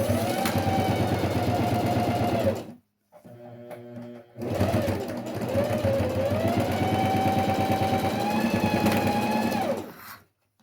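A sewing machine runs in two long bursts of rapid stitching, a short pause and some faint clicking between them, close and loud.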